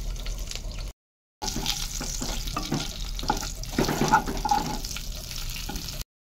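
Dry chilli, green chillies, bay leaf and black cumin crackle and sizzle in hot oil left from frying potatoes, a steady close hiss with small pops, broken by a short silent gap near the start.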